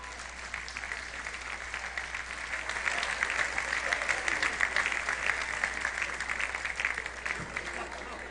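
Church congregation applauding during a Sunday celebration service, steady dense clapping that swells in the middle and carries on for several seconds.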